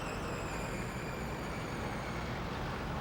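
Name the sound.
rush hour city traffic noise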